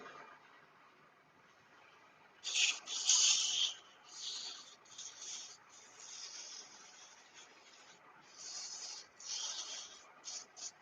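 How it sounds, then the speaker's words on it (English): Sandpaper rubs back and forth against a surface in short rasping strokes, fairly close and moderately loud, with brief pauses between passes. "Thought I'd lost my sandpaper for a minute."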